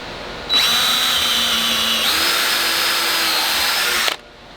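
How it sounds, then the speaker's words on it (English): A loud power drill starts abruptly and runs steadily for about three and a half seconds, pitch shifting slightly midway, then cuts off. "So now I'm going to drill all these holes."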